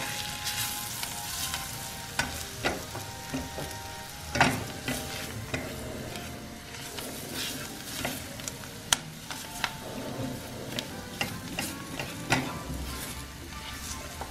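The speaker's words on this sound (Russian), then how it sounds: "где-то 2 минутки будем это все пассеровать, помешивая" Flour sautéing in oil in a pan with steady sizzling and frying, and a spoon scraping and stirring at an irregular pace throughout, close and fairly loud.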